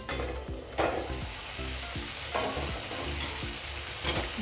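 Brinjal pieces sizzling in a kadhai for a quick Maharashtrian vangyachi bhaji, a steady close frying hiss with a few sharper bursts and a low tonal hum underneath throughout.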